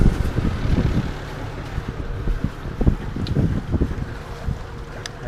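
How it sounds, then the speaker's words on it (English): Low, steady rumble of a sailboat's engine idling in forward gear at the dock, churning prop wash with a sloshing, gusty texture and some wind buffeting on the microphone. "Not going to rev it up too much in forward because we are at the dock, but I'll show you the prop wash we're putting out."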